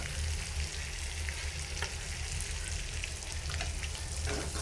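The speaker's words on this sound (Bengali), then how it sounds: "আমি পেঁয়াজ ভাজা লাল কইরা তারপর আমি একটা ডিম ভেঙে দিছি" An egg and browned onions fry in oil in a pan, giving a steady, close sizzle with constant crackle throughout and no voices.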